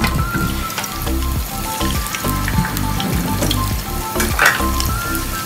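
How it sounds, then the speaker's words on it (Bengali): Chicken pieces deep frying in a fair amount of oil in a pan, a loud, dense crackling sizzle with bubbling pops, steady throughout. "তাই আমরা 4 পিস করে 2 বারে ভেজে নেব মাংসগুলো।"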